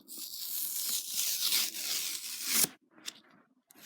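A thick, heavy NFL Prizm trading card has its paper layer peeled and torn off in one long, close, ripping tear, followed by short crinkling tugs.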